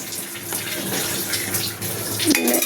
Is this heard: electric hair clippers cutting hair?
no